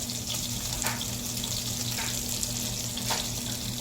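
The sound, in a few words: banana pancake batter frying in hot butter in pan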